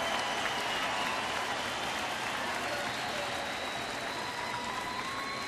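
Big baseball stadium crowd of over 39,000 cheering and clapping to back the pitcher, a dense steady roar of applause and voices with a few whistles, held at even loudness throughout.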